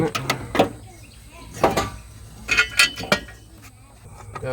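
Metal clinks, clanks and scrapes come in irregular bursts as exhaust headers are worked off the engine of a 94 Chevy Z71 truck, heard up close with a faint voice now and then.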